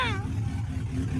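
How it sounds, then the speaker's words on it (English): A loud truck engine rumbles low and steady close by, with a brief falling whine at the start and a voice talking over it. "this truck's a little loud"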